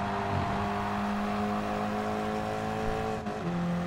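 A race car engine in the Gran Turismo Sport video game, multiplayer racing at Willow Springs, droning at a steady high pitch and shifting slightly as the car runs alongside another, with no talk.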